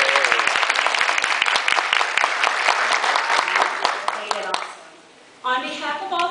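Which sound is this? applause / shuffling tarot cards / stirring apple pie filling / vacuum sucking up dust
applause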